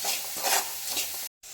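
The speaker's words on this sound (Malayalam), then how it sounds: "ഈ ശർക്കരയും കൂടെ നമുക്ക് ഇളക്കി, ശർക്കരയും തേങ്ങയും കൂടെ നന്നായിട്ടൊന്ന് ഇതായിട്ട് വരട്ടെ" Jaggery and grated coconut are stirred together in a pan, giving close, dry scraping swishes over a soft sizzle. The stirring stops in a brief silent gap near the end and then resumes, with no voices.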